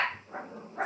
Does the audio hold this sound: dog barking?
yes